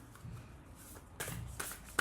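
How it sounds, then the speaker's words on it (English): Tarot cards being shuffled by hand, a few short papery riffling bursts separated by brief pauses, quiet and close, with no talking. "So I guess the shuffling is done"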